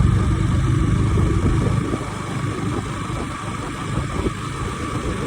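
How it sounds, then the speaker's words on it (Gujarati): A motorcycle engine running steadily nearby, a continuous low rumble that eases slightly after a couple of seconds, with no talk over it. "ચાલો મિત્રો આપણી બાઇક લઈને જઈએ ધોવરાવતા આવીએ"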